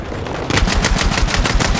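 Automatic gunfire fires in rapid, evenly spaced bursts in the first-person shooter Battlefield 6, loud and close, starting abruptly after a brief quieter lead-in and continuing without pause.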